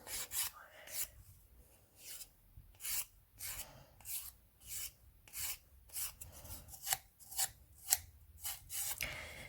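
A nail file buffs gel nail polish off a fingernail in steady, repeated rasping strokes, about a dozen evenly spaced scrapes, close and fairly quiet, with no talking.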